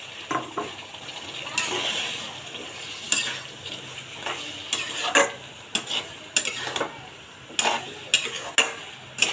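Spice paste with malabar spinach stalks and potato frying in a pan for a hilsa shutki dish, stirred with repeated sharp scrapes and clinks of a utensil over a steady soft sizzle, close and fairly loud.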